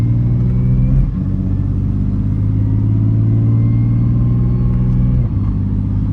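A single-turbo BMW N54 car accelerates outside sport mode with a loud, close engine drone, the pitch dropping smoothly at two gear changes before it climbs again.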